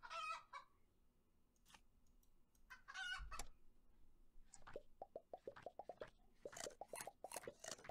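Cartoonish chicken clucks from the video game Terracards, a series of short plucky clucks and pops that quicken into a rapid run, with a few brief squawks earlier, alone and fairly faint.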